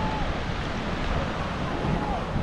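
Sea waves rolling in at a Philippine seashore, a steady roaring wash with wind buffeting the microphone, loud and continuous without spoken words.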